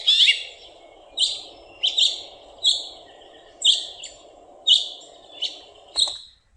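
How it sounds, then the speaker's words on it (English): A finch gives a series of bright, ringing chirps, about nine short calls spaced roughly evenly over several seconds, close and clear over a soft steady hiss. "This is classic finch. Finches make this little noise."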